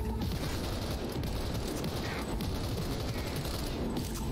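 Sustained gunfire from Cyberpunk 2077 rattles on without pause, dense and loud throughout, with bursts blending into a continuous barrage.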